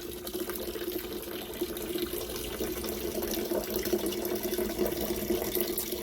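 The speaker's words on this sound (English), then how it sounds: "I can sit, look at the fountain, enjoy my breakfast, and just enjoy the sounds." A garden water fountain splashes and trickles steadily outdoors, a continuous moderate wash of falling water with no voices.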